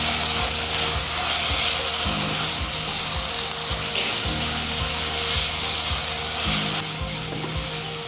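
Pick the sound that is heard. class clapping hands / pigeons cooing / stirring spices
stirring spices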